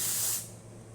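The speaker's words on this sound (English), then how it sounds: "I'm just going to test out steam" The steam wand of a serviced Pasquini Livia 90 espresso machine gives a brief, loud hiss of spraying steam that quickly drops to a softer rush.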